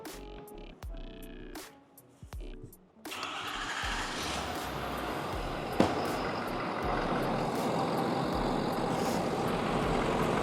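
A 2019 Ford F350 with the 6.7 diesel and a Banks ram-air intake cranks over and starts after a few clicks, then settles into a steady, loud diesel idle with a single sharp knock partway through.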